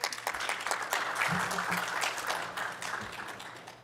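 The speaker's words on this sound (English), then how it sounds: "Let's give them a round of applause." An audience at a veterans' storytelling session breaks into warm, steady applause, a full room of clapping that swells and gradually thins, with a voice briefly audible.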